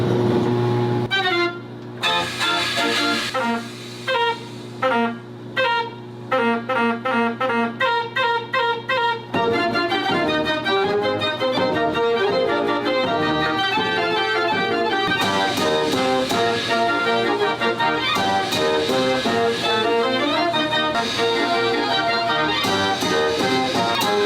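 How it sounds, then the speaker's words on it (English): A self-playing mechanical dance organ blasts loud, continuous music, starting with punchy staccato chords and swelling into a dense, brassy full-organ sound with steady rhythm throughout. "a mechanical instrument. It's called a dance organ. And apparently it plays by itself."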